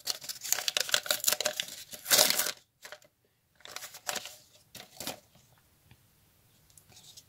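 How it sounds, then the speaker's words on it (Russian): A paper packet is torn open in several quick ripping bursts, close up, followed by a brief pause and lighter crinkling. "Откроем наш пакетик."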